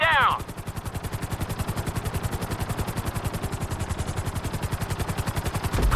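Helicopter in GTA 5 flight school, a loud close rotor with fast rhythmic chopping thumps running steadily throughout, with brief voice bursts at the very start and end.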